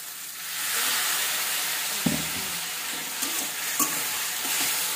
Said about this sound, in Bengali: আমি ভালো করে কষিয়ে নেবো একটুখানি জল দিয়ে।